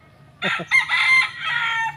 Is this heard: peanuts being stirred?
no